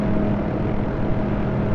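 A Hughes OH-6A helicopter flies in the DCS simulator, producing a steady, loud whirring drone of rotor and engine with no change across the short span.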